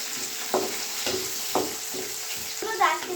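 Tomato slices frying in a pan after browning, alongside mushrooms: steady close sizzle with a series of regular stirring scrapes roughly every half second, moderately loud, no talk.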